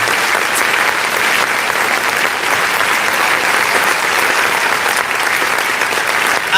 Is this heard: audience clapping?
yes